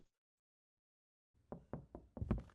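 After a stretch of silence, five quick knocks strike a door in the video game Just Cleaning, close and moderately loud, the last knock slightly heavier.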